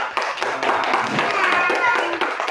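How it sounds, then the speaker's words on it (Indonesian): Children in a classroom clap together in a lively, uneven burst of hand claps, with voices mixed into the clapping. "Ayo kita beri tepuk tangan."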